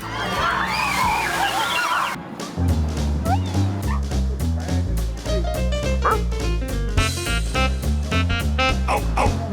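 Dogs at a shaded dog park in Tampa bark and yip in a rapid, loud volley that repeats steadily over splashing water, with a brief whimper among the barks.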